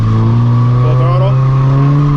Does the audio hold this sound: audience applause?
no